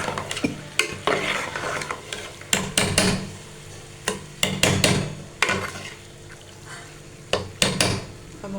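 Chana dal and spinach are stirred in a frying pan, with a spoon scraping and knocking against the pan in irregular strokes over a soft sizzle, close and fairly loud.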